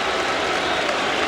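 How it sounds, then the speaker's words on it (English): At a Red Sox–Marlins baseball game, a stadium crowd lets out a mock cheer, a dense, steady wash of cheering and scattered clapping with no single voice standing out. "A mock cheer goes up from the crowd"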